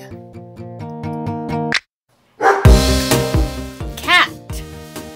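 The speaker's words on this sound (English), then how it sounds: "Dog." A dog barks in a short burst of several loud, close yips and woofs after a brief pause, with a voice nearby and a musical backing underneath.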